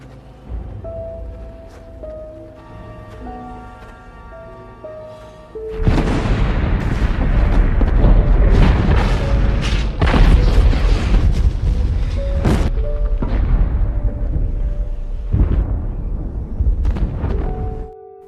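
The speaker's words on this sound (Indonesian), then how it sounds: "Para tawanan yang lain berhasil meledakkan pabrik amunisi milik Jerman." A German ammunition factory blows up in a massive, sustained roar. A heavy boom kicks it off, and repeated blasts and bursts keep crackling loudly for over ten seconds. A quieter tonal background comes before it.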